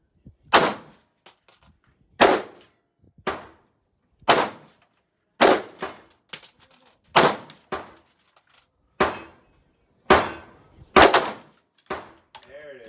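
A Krebs AC 18 rifle fires at an outdoor range, about ten sharp loud bangs spaced a second or so apart, each followed by a metallic ring from steel targets and a brief decaying echo.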